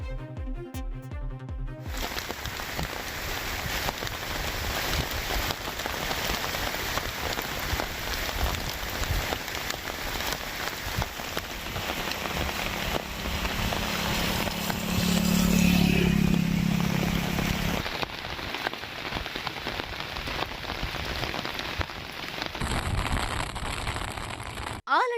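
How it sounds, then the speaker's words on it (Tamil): Heavy rain pours down in Chennai, a dense continuous patter on surfaces lasting throughout, with faint passing traffic in the background. "திடீரென இந்த கனமழை பெய்தது."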